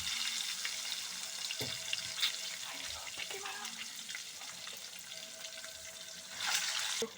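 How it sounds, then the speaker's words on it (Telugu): Eggs frying in hot oil for a tomato egg curry sizzle quietly and steadily in a pan, with a few light clinks and a brief louder hiss near the end. "నూనె కాగిపోయిన తర్వాత గుడ్లు వేసి వేయాలండి"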